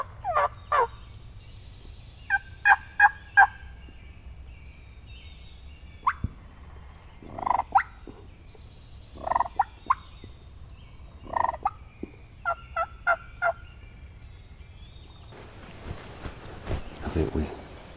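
Wild turkeys gobbling from a distance in Wisconsin public woodland, in several bursts of rapid, rattling calls separated by pauses, over low steady background rumble.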